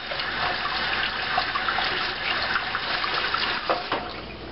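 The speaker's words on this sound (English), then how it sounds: "I usually don't make more than 2 before I rinse my knife again." Water runs steadily from a kitchen tap while a knife is rinsed between cuts of a low-carb cheesecake, a close, even splashing stream with small bursts as the blade moves through it.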